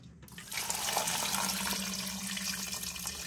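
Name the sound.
water poured into pot with turkey tails and beans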